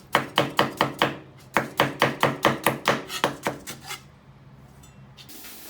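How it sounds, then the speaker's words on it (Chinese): Knife chops pickled chilies and pickled ginger on a board in quick, even rhythmic strokes, two close bursts of about a dozen cuts each, then a quiet pause. "把泡椒切成小段儿，泡姜切成片片就是了"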